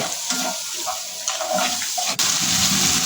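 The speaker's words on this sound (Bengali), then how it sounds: "এরপর দিয়ে দিব সামান্য পানি।" Water pours steadily into a pot, a continuous splashing rush with a sharp clank partway through.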